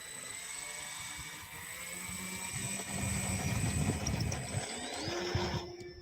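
Small RC model aircraft engine whining steadily in flight, with a tonal buzz that shifts pitch as the plane passes, moderately loud and continuous outdoors with wind rumble underneath.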